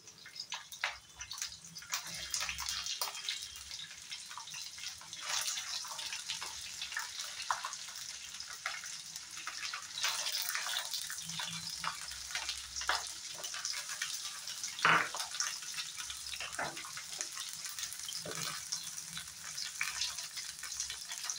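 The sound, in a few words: chopped onions frying in a pan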